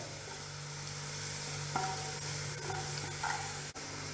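Garlic sautés in a pan for a dahi lahsun chutney, giving a steady, fairly quiet sizzle with a few light stirring scrapes and one sharp click near the end.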